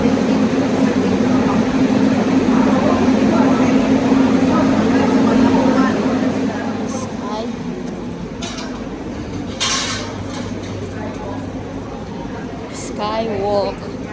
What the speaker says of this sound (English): Ang cute ng cable car nila parang train.